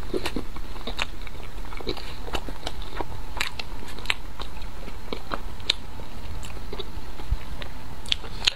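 Close, continuous crunchy biting and chewing of a soft, sweet red bean paste pastry, with crisp bites and moist mouth sounds throughout and no talking.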